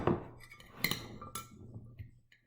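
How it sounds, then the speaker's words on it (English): A cucumber chickpea salad with chopped tomato is stirred in a bowl, giving a few light clinks and scrapes of a utensil against the dish over soft rustling of the ingredients, close and fairly quiet. "give it another stir"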